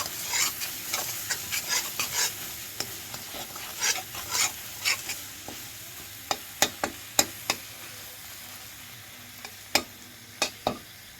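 Onions and masala fry in a pan under a spatula, with quiet sizzling and a quick run of scraping stir strokes, then sharper, sparser clicks and scrapes later. Close, with no voices.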